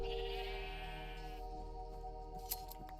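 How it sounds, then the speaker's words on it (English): Video-game sheep bleat in drawn-out, wavering cries over steady background music, with a brief sharp click near the end. "including a whole bunch of noisy sheep"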